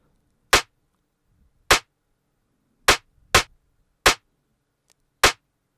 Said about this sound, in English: Moving on to the snare, which is actually 3 snares, sounds like this.